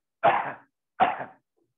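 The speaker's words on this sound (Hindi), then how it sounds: "इसके बाद थोड़ा खांसना" Two deliberate coughs, close and fairly loud, spaced about a second apart, performed as part of a yoga breathing and pranayama exercise after a deep inhale.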